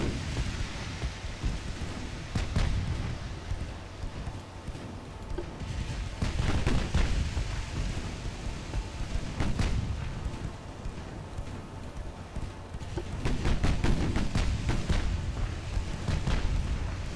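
Naval gunfire in the video game Ultimate Admiral Dreadnoughts, set in 1920 battleship combat: dense, rumbling booms and crackling salvos roll continuously over a steady noisy wash, with sharper bursts of fire clustering at intervals.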